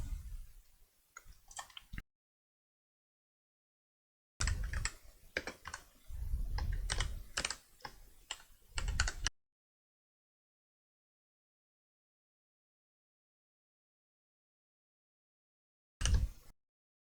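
Keys clatter in quick, irregular bursts on a computer keyboard while a server launch command is typed for a Minecraft server, the clicks close and dry, with long silent gaps between the short runs.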